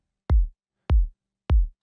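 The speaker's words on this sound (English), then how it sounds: "I went with this kick that sounds like this on its own." Three solo kick drum hits for a relaxing desert house track, each a deep punchy thump with a short clicky attack, evenly spaced about 0.6 seconds apart in silence.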